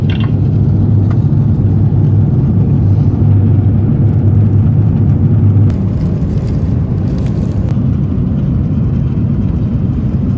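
A steady, loud, broadband rumble fills the cabin of a Thai Airways Airbus A350 in flight, constant from start to finish, with faint shifts in the background hum.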